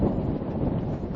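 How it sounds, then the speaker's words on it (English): Steady wind at a beach roars and buffets the microphone, a constant low rumble with no pauses and no voices. "It is now very windy."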